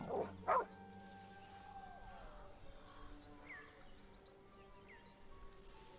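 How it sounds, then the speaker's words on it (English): A dog in the fantasy role-playing game Baldur's Gate 3 gives two quick yips near the start, then a few soft whimpers over quiet background ambience. "Pet the dog."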